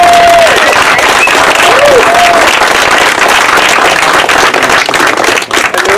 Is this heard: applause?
yes